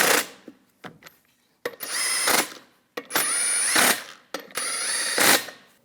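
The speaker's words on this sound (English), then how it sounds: "Put the lug nuts on. snug those down." Impact wrench snugging lug nuts onto a front wheel of a 2015–2022 Chevrolet Colorado, four loud rattling bursts with short pauses between them, close and alone.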